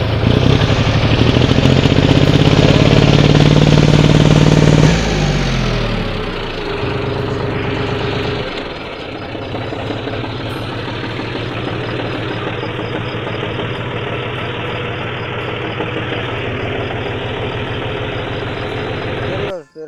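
A tractor engine, from a tractor that broke down in a gutter, runs with a loud, steady mechanical drone that drops in pitch and level after a few seconds, then settles into a lower, even idle to the end.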